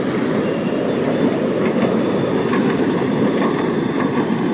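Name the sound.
LRT train passing in Manila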